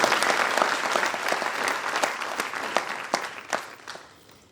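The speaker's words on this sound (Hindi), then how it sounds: "मंत्री जी और शालिनी रजनीश जी के लिए आप ताली बजा करके स्वागत करें" Audience applause at a tribal youth exchange programme event, welcoming the minister: dense, sustained clapping from a sizable crowd that stays steady and gradually tapers off toward the end.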